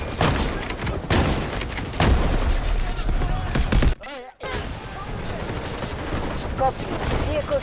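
Rapid bursts of shotgun fire from an M870 in the shooter game Delta Force boom close and loud in quick succession, broken by a brief drop to near silence, with game noise continuing around them.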